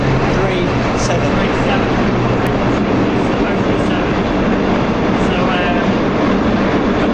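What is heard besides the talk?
London train running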